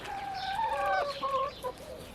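Backyard garden chickens cluck softly at feeding time, a few short, rising and falling calls close by over quiet outdoor ambience.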